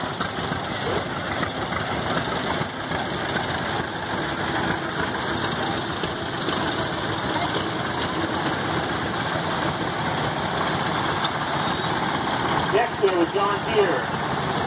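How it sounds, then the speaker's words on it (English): A 1935 John Deere VR tractor engine idles and chugs at an outdoor engine-show tractor parade, a steady loud low rumble throughout with crowd noise, and a voice briefly calls out near the end. "Next we have a John Deere VR 1935"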